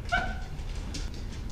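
A dog gives a short high whimper near the start, a thin whining cry that fades within a second, followed by faint rustling against a low background hum.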